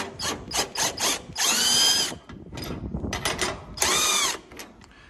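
A ratchet spins a bottom nut up a big pull rod on a Gleaner R72 combine, sounding in quick clicking bursts with two longer sustained runs, close up and loud, with no speech.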